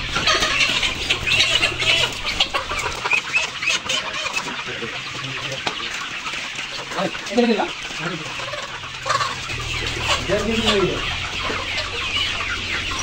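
Several layer chickens cluck and squawk close by over a constant background hum, with a few louder calls rising now and then.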